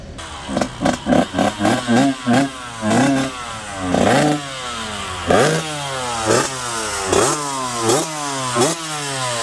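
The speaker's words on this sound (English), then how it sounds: "He's heading out on his favorite bike to the sands of Southwood." A vintage two-stroke dirt bike revs in sharp throttle blips, then pulls away through rising and falling gear changes that fade as it rides off toward the sand.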